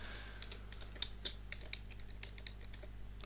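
Computer keyboard being typed on while entering text in Photoshop, quiet irregular key clicks in short bursts over a low steady hum, faint and close, no speech.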